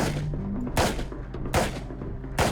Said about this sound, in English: we ended up doing live fire shooting